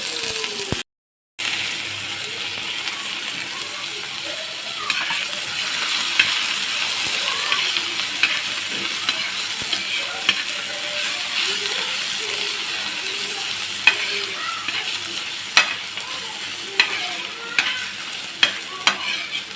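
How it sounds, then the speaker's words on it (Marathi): Chopped onion with curry leaves frying in a pan for a Marathi dry vegetable dish, a steady close sizzle with scraping stir sounds and a few sharp clicks toward the end, after a brief silent gap near the start. "कडीपत्ता घालून घेते कांदा"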